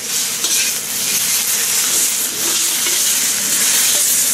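Beef chow mein stir-fried fast in a crowded wok, a steady bright sizzle and crackle of hot oil filling the whole stretch, with faint stirring scrapes underneath and no voices.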